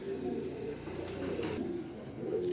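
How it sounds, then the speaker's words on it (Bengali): Large racer pigeons, a male and female pair, give soft, low cooing calls, faint and fairly steady against quiet background noise. "এখানে 2 পিস কবুতর দিলাম।"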